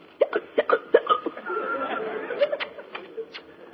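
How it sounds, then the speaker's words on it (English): Hiccups in an old black-and-white comedy film come as a quick series of sharp, close gulps early on, then give way to laughter-like voiced sounds and scattered short hiccups. "If only you'll stop those awful hiccups."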